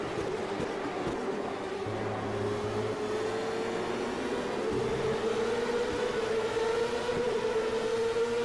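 A Cosworth engine powers a CART race car in Automobilista at Road America, holding a steady, droning high-revving whine that rises slowly in pitch over a constant rushing wind noise.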